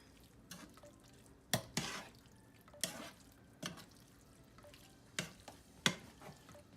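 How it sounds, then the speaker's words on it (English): A tortellini dish stirred in a pot, with a spoon knocking and scraping in several sharp, separate clanks spread over a few seconds, close by, against a quiet background. "So I'm gonna stir it real quick."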